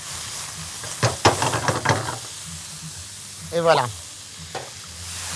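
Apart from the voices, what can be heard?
pan-frying with ginger, pepper and salt, stirring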